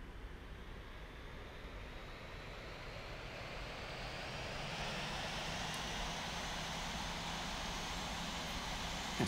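Jet airliner engines spooling up and running in the Infinite Flight simulator, a steady broad roar with a faint rising whine that grows slightly louder partway through, no talk.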